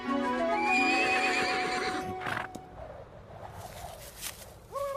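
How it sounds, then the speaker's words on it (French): A horse whinnies loudly in a long, wavering neigh, followed by scuffling hoofbeats and another short neigh at the end. "Ils vont rabattre les chevaux et les coincer contre la falaise."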